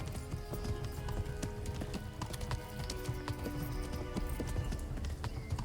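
Hooves of a galloping horse in the video game Kingdom Come: Deliverance pound in a fast, steady clip-clop rhythm, loud and continuous, over a busy backdrop of battle noise.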